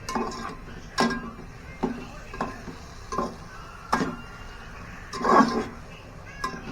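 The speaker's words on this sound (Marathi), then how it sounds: "ही सगळी कोळंबी त्यामध्ये ॲड करायची आणि थोडं ढवळून घ्यायचे" Metal spoon clinking and scraping in a pan as prawns are stirred into fried masala, a series of sharp clinks and scrapes at an irregular pace, close by, with low background noise.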